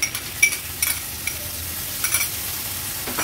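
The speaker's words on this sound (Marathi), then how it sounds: "आता आपण ह्याच्यामध्ये पाव कप दही आहे ना थोडं फेटून घेतलं आहे, ते ऍड करूया" Whisked curd being stirred into mushroom gravy in a hot pan, with a steady sizzle and a few soft scrapes of a spoon against the metal throughout, and no voices.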